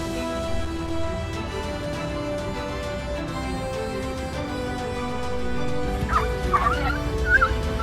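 Several dogs yap, whimper and bark in agitated bursts at an alligator rising from the water, the barking growing louder and more frantic toward the end over a steady outdoor background.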